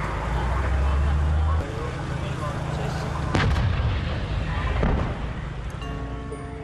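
Heavy booming blasts of distant artillery fire thump through a loud, rumbling background near Żagań, Poland, with a sharp report in the middle and another a bit later.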